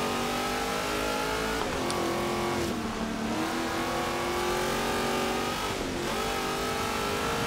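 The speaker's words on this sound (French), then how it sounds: "Ah, ils sont monstrueux les moteurs," Hot Wheels cars race in Forza Horizon 3, their game engines droning and revving in layered tones that rise and dip with gear changes, continuous and loud with no talk over them.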